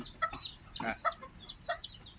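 Small bantam chicks, about ten days old, chirping and clucking in quick, high, bright bursts, close by, with a soft background of other peeping birds.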